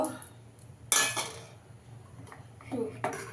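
Mashed mung lentils and bottle gourd are scraped and tipped into a bowl, giving a few clinks of utensil against dish, one sharp knock near the one-second mark and softer scraping toward the end, fairly close and moderately loud.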